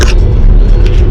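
An electric car accelerates with a brief, loud, broad rumble of road and wind noise heard from inside the cabin.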